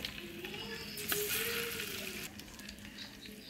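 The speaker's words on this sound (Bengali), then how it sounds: "তেল গরম হয়ে গেছে, মাছগুলো দিয়ে দিব।" Sarputi fish, rubbed with salt, turmeric and chili powder, frying in hot oil: a steady close sizzle with crackling spatter, a sharp clink about a third of the way in, and the hiss fading slightly toward the end.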